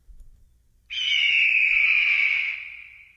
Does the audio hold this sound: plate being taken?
no